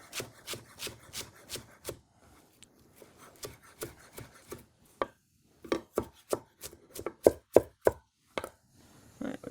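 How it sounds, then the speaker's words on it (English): Fresh cilantro gets a rough chop with a knife on a board, rapid rhythmic thuds in bursts with brief pauses, close and distinct with no talking. "We're going to give this a rough chop."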